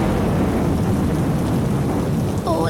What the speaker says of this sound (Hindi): देखते ही देखते बारिश इतनी तेज हो गई कि पेड़ की डालियां जोर जोर से हिलने लगीं